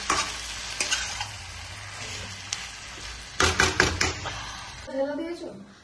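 Chicken cooks slowly over a low flame in a pan kept covered, giving a soft continuous sizzle with occasional clatter of the lid and utensils near the end, while a voice talks over it at times.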